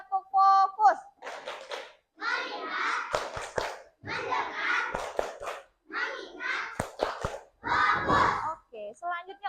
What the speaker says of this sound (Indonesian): Ayo tepuk fokus dulu. 1, 2, 3. Tepuk fokus.